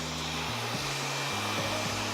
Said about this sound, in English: use the pressure of the blow dryer to push the hair down